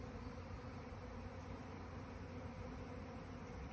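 A swarm of thousands of bees hovering across a yard makes a soft, continuous broadband hum, even and unbroken with no distinct individual passes.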